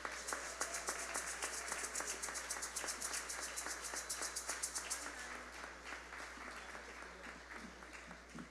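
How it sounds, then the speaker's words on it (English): An audience at a Sage Cultural Award ceremony applauds a group of award recipients, dense steady clapping from many hands that gradually thins and softens toward the end. "can we give an offering of applause for Tani and the boys?"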